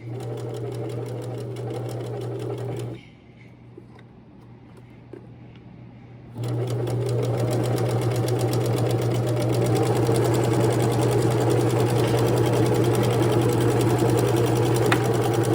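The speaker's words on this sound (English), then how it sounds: "So I'm gonna go forward, I'm gonna go back stitch a little bit." A sewing machine stitches forward and back on practice scrap fabric for a decorative stitch, its steady motor hum running loud and close, pausing for about three seconds before resuming at a stronger, continuous whir.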